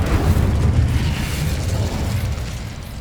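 The Incendio fire spell cast in Hogwarts Legacy: a loud, close, roaring burst of flame with a heavy low rumble that holds steady, then slowly eases off over a few seconds.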